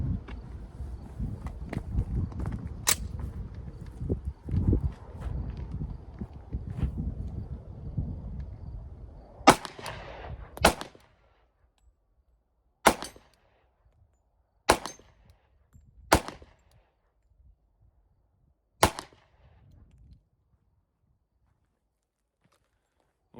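A SIG P227 pistol fires 45 ACP rounds: about seven sharp, loud shots spaced a second or more apart, the first few over shuffling and handling noise, the later ones ringing out alone in near silence.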